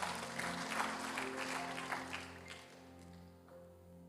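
A church congregation claps briskly for a couple of seconds, then the applause fades out under a sustained musical chord.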